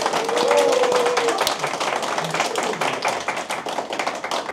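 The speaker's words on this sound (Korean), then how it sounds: "정상환 후보 박수로 환영하겠습니다" An audience gives a candidate a welcoming round of applause at a political event in Daegu, a dense, steady wash of many hands clapping, fairly loud, sustained and gradually thinning.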